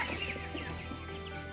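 Young chicks out on pasture make soft clucking and peeping calls over a steady low background hum, faint and close, with no talking.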